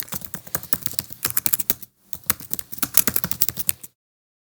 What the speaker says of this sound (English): So I'll just type computer science videos